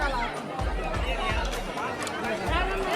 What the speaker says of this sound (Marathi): खूप गर्दी आहे इथे.